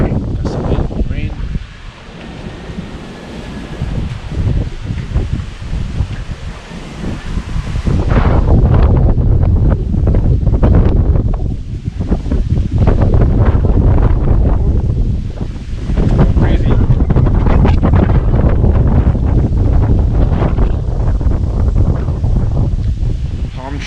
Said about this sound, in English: Currently it's just gusts of wind, rain.